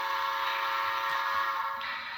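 A sustained, steady steam-style whistle from a Bachmann Spectrum 4-4-0 model steam locomotive, held for the full couple of seconds with a bright, breathy tone and no talking.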